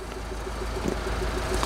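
A Mini Cooper engine idles steadily with the bonnet up, a low even rumble with a faint regular ticking pulse and no talk.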